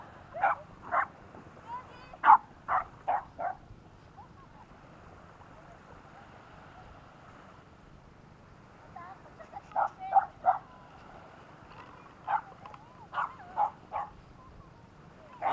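A dog barking outdoors on Isla Salvador in Masinloc, Zambales, in clustered bursts of sharp, fairly close barks separated by quiet gaps, over faint wind and water.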